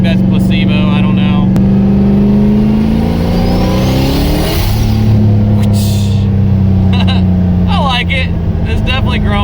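A car engine revs hard in third gear, its steady close drone rising and falling through a pitch sweep midway, with a voice talking briefly at the start and again near the end.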